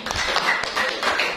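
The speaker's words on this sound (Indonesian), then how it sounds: "Tepuk tangan dulu." Pupils in a classroom giving a short, soft round of hand clapping, a brief scattered patter of claps heard at a moderate distance.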